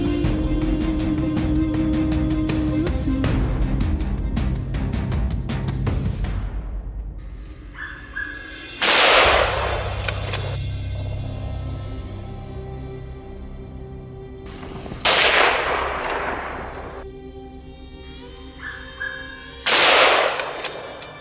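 Three sharp, loud gunshot cracks from a high-powered hunting rifle used for wild boar hunting, widely spaced and each trailing into a brief echo, after an earlier stretch of dense mechanical noise.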